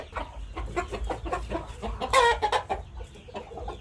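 Burmese fighting chickens cluck in quick, choppy bursts near a chicken-release area. The clucks are loud and close, with a sharper squawk partway through.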